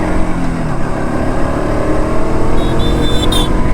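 A KTM RC 200 motorcycle runs at speed while overtaking, its loud engine roaring with the pitch climbing under acceleration, mixed with wind rush and a short high tone near the end.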